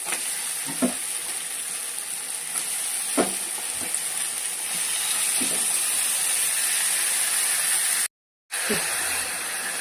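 Pieces of chicken sizzle steadily in hot fried masala in a pan, a continuous bright hiss with soft stirring knocks and one brief cut to silence near the end.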